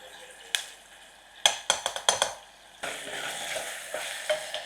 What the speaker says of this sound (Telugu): దీంతో కాబట్టి పచ్చిమిర్చి కూడా వేసేసి బాగా వేగనిస్తాను